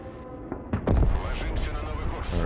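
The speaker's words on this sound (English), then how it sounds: "we can also just bomb that Igla" An explosion booms as a bomb strikes an Igla launcher in the video game Broken Arrow: a rising whoosh then a loud, heavy blast that rumbles and fades, with a voice talking over it.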